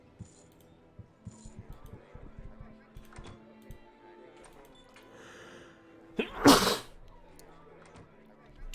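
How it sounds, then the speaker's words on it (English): A single sharp sneeze bursts out near the microphone after a quiet stretch of faint clicks and soft background sounds. "That was a sneeze"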